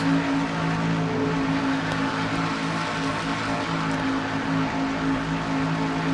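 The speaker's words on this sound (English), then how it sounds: "Taking a ride with Quentin Moore in car number 21 to Citgo Ford, the pole sitter for the event." Stock race car engine at Daytona heard from onboard car number 21, a Ford, during a night race: a steady, loud, droning engine roar with constant pitch, running continuously with no talk.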